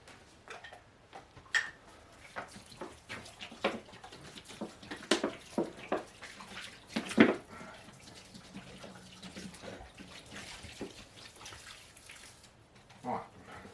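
Water splashes and patters as the top of a garden hotbed is watered, with irregular close splashes and drips rising and falling throughout.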